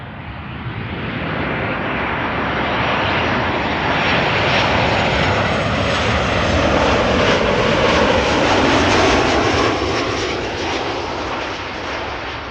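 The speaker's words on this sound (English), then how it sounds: "a 737-800 from Transavia. Inbound from Kos." A Transavia Boeing 737-800 inbound from Kos lands at Amsterdam Schiphol, its jet engines a loud, steady broadband roar that swells through the middle and stays close and sustained throughout.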